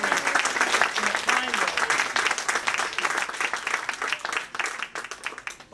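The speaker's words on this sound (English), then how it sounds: "So give her a round of applause for the great victory in" A political rally crowd applauds and claps for a state representative candidate's primary win, dense continuous clapping throughout with a voice audible over it.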